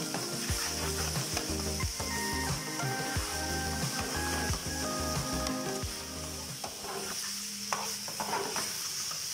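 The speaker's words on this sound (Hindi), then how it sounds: "तो चलिए हम इसको इसमें डालते हैं और फ्राई करते हैं" Chicken stir-frying in a pan with cabbage and green onion for homemade chicken chow mein, a continuous loud sizzle broken by rapid rhythmic scraping and tossing of a utensil against the pan, steady throughout with no talking.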